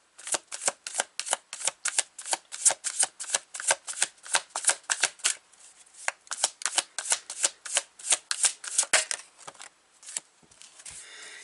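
A Light Seers Tarot deck is riffle-shuffled over and over in rapid, rhythmic bursts of crisp card flutter, close and loud, with a brief pause midway before the shuffling resumes.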